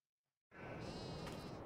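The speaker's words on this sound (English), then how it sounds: "There we are, sheep in the pasture." Sheep bleating in a Farming Simulator pasture, a dense continuous chorus of bleats that starts abruptly after a short silence and holds steady and loud to the end.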